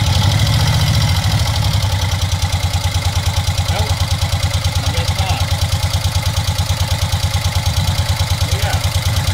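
A 2001 Kawasaki Vulcan 750 motorcycle idles nearby, its engine thumping in a loud, steady, evenly pulsing rhythm throughout after a rougher start.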